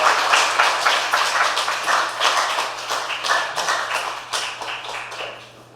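A church congregation applauds its pastor during a worship service: a steady, dense patter of many hands clapping at close range, continuing evenly without talk and tapering off slightly at the end.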